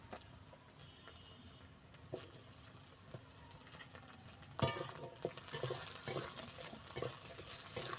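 Chopped onions stirred and lightly fried in a pan, with soft sizzling and scraping stirs that grow busier and louder partway through, alone with no talk.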